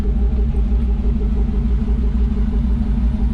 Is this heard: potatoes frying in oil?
no